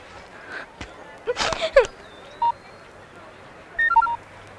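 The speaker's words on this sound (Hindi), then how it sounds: "उसे फोन करो" Telephone keypad tones sound as a call is dialed: a short run of distinct electronic beeps near the end, preceded by a single beep and a burst of louder voices or movement.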